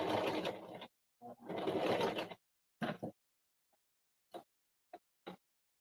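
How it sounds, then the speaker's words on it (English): A sewing machine stitching a zigzag around a knotted baby hat to attach the headband, in two long whirring runs followed by a few short bursts, close and clear. "I am going to sew zigzag stitch all the way around, and this is going to attach the headband to the hat."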